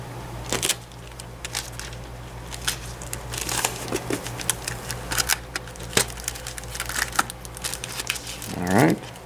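Tape pulled and pressed onto packaging foam wrapped around a StreetStrider wheel, heard as close, scattered crinkling and crackling handling sounds with a short tearing rasp near the end.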